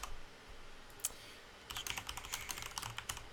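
Quick, light keystrokes on a computer keyboard while entering a password, a couple of isolated taps followed by a fast run of clicks, close and quiet.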